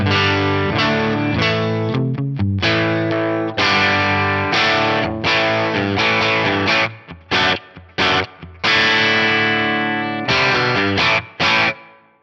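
An electric guitar with a light crunchy overdrive plays chords and short phrases through the neck and bridge pickups, loud and close, with brief stops between some strums.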